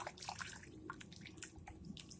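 Distilled water that has been brought to a rolling boil pours and drips, a quiet run of irregular splashes and droplets close by, with no talking.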